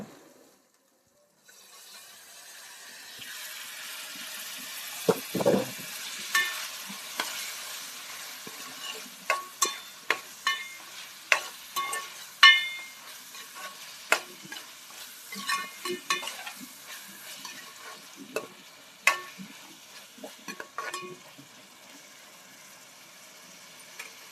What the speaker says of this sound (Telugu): అల్లం ఉల్లిపాయల పేస్ట్ పచ్చివాసన పోయేంత వరకు మనం అయితే ఫ్రై చేసుకొని టమాటీస్ అయితే వేసుకోవాలి